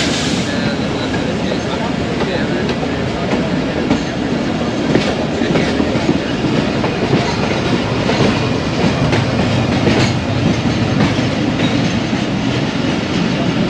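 The Khyber Mail passenger train runs on the rails through cold, foggy Punjab, making a loud, continuous rumble heard from on board, with a steady wheel rattle and faint clicks on the track.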